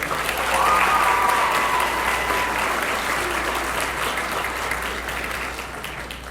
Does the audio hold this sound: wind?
no